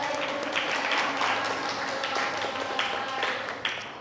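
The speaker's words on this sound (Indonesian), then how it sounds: "Ya, kasih tepuk tangan." Classroom applause after a teacher-training demonstration lesson, a steady dense patter of many hands clapping indoors for about four seconds with no pause.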